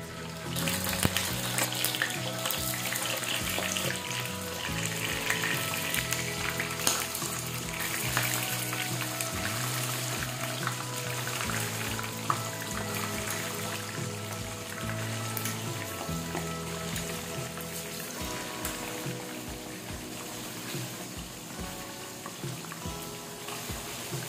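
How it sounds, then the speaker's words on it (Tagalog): Chicken liver frying in heated oil gives a continuous, moderately loud sizzle with popping and crackling throughout, plus an underlying low hum, with no talking. "Pa-fry natin tong chicken liver."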